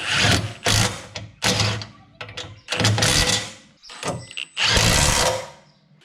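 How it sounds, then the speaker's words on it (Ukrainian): A power tool drives and tightens the bolts on a Jeep Grand Cherokee's bumper reinforcement. It comes in several loud whirring bursts, each a second or so, with short gaps between them. "Вже зажмемо ці болти, на яких кріпиться до кінця підсилювач."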